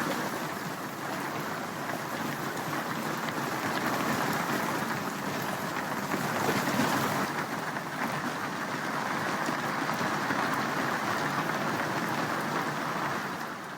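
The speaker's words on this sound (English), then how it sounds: "It actually just pours down on my hatch and into my aft cabin. That sucks. Ah! And it's hail." Heavy rain and hail pour down onto the hatch of a sailboat's aft cabin, a dense, loud, continuous hiss and rattle that runs unbroken throughout with no voices.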